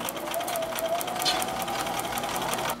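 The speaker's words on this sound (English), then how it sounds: "stitch along the pencil line that you made" Sewing machine running steadily while stitching a fabric potholder along a pencil line with a slightly longer than normal stitch length, a continuous close mechanical whir with a fast even rhythm and no pauses.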